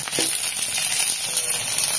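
Mustard seeds sizzle in hot oil with a close, steady hiss and fine crackle that carries on without a break, a single brief pop near the start.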